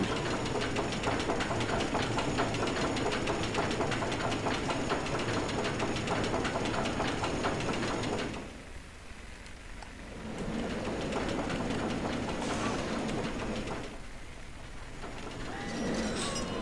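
A steady rumbling roller coaster train in the video game Roller Coaster Tycoon 3 drones continuously, dipping briefly in loudness twice before resuming.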